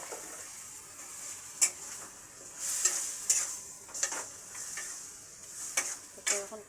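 Chicken pieces sauté in a hot pan with a steady crackling sizzle, punctuated by about seven sharp clinks and scrapes of a spatula, close by.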